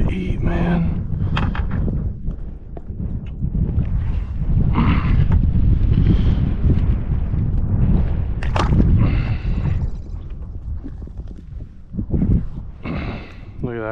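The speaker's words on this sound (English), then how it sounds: "It's windy" Wind buffets the microphone in loud, rumbling gusts, with a person talking intermittently through the roar while fishing in a Florida marsh.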